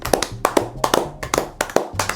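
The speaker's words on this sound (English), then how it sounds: "and then you start clapping them. It must make a sound." Hollow cupped-hand claps of kuridza gusvu, a Zimbabwean greeting, ring out close by in a loose, uneven series of about ten sharp, resonant pops.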